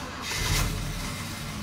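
A GM pickup with throttle body injection cranks and catches with a little gas while its idle air control valve is unplugged, giving a steady, close mid-pitched engine roar that swells briefly, then settles.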